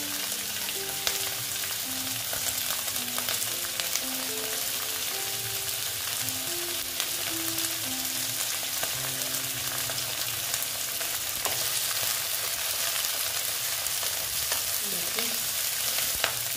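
Onion stalks fry in a hot pan, giving a steady, dense sizzle and crackle that runs close and continuous throughout, with a faint tonal background beneath.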